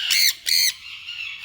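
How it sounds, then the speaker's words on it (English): Red Factor Sun Conure parrot babies let out two sharp, shrill squawks in quick succession, close and loud, followed by a quieter trailing call. "Red Factor Sun Conure Parrot babies."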